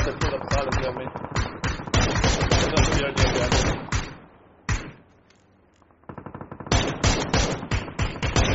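Rapid automatic gunfire in PUBG, loud bursts of closely spaced shots that pause briefly in the middle before resuming, with a voice speaking over part of the shooting.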